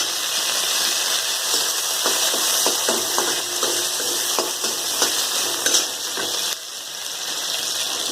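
Crushed green chilies sizzle in hot oil in a pan, giving a steady crackling hiss with scattered small pops and stirring scrapes, close by and with no voices.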